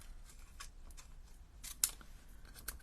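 Scissors snip off scraps of card left around small cut dies: several quiet, quick crisp snips with one sharper cut near the middle, close by over a soft background.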